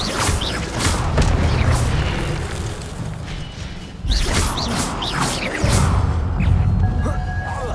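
Incendio fire spell cast in the Hogwarts Legacy game, loud whooshing bursts of flame and booming impacts repeating several times amid dense combat noise.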